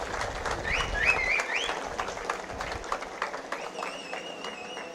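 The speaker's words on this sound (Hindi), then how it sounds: "एक बार ताली बजा दीजिए सब लोग इनके" A political rally crowd in Goa claps steadily, a dense, moderately faint patter of many hands, with a few whistles and cheers rising above it.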